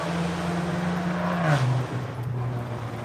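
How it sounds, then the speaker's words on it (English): A very loud car driving past a garden, its steady engine drone dropping in pitch as it passes the middle, with broadband road noise swelling then easing, no talk over it. "Loud, really loud car coming by."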